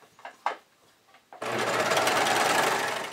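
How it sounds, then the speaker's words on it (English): A serger overlocks along the upper edge of plain jersey fabric: a few faint handling taps at first, then the machine starts abruptly into a loud, steady, rapid mechanical whir that runs continuously to the end. "I'm going to just serge along this upper edge just to finish that edge"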